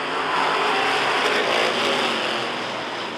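Race cars accelerate together at the green flag of a feature race at Rockford Speedway, a dense, loud roar of engines from a distance blending into one wash of sound.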